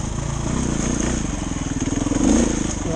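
Motorcycle climbing a trail in second gear, its engine loud and close with a fast pulsing throb that swells and strains toward the end, no talking.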